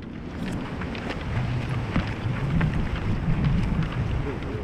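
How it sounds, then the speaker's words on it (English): Thunder rumbling overhead during a lightning storm on a golf course at Bandon Trails, a deep continuous roll mixed with wind buffeting the microphone. "The rumbling is over top of us now, despite the lightning seemingly staying cloud to cloud in the distance."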